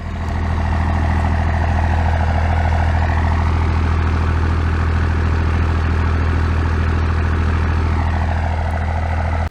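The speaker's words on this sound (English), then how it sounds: "But listen to her. Just listen to the truck." A first-generation Cummins diesel truck engine running with a steady, loud low rumble and drone that holds evenly throughout.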